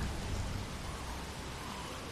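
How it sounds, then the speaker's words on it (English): Steady rain falling in The Walking Dead game, a dense continuous hiss with low rumbling underneath, even and unbroken throughout with no voices. "it's raining"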